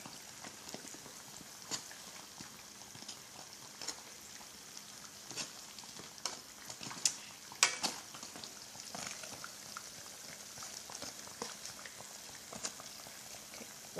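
Fried bread sticks (patongko) frying in hot oil: a soft, steady bubbling hiss with scattered faint pops and crackles, heard close up with no talk.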